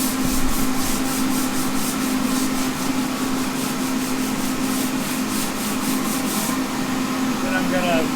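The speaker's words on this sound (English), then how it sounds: "Just do a little sanding here." Hand sanding on a diesel oil pan makes a loud, steady rasping scrub of rhythmic back-and-forth strokes, close up and alone for most of the stretch.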